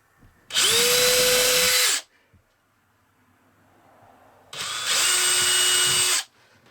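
Power drill boring a small pilot hole while an RV thermostat is installed, two steady high-pitched whirring bursts of about one and a half seconds each, separated by a pause, close and loud.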